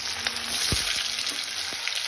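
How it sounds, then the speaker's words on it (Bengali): Potato pieces lightly frying in hot oil for a vegetarian potato curry, a steady close sizzle and hiss with a few soft knocks of stirring, no voices. "আমি এবার আলুগুলো তেলের মধ্যে দিয়ে দিচ্ছি অল্প একটু ভাজার জন্য"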